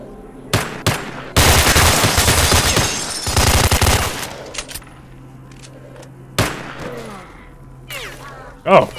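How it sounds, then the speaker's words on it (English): Loud bursts of automatic gunfire in STALKER: Shadow of Chernobyl, a long close volley followed by scattered single shots and quieter pauses. "We're taking suppressing fire."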